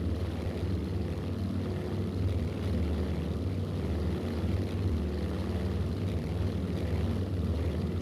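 A propeller plane's engine drones steadily in the Aerofly FS 4 flight simulator game, a loud, even low rumble and buzz that holds unchanged throughout with no talking.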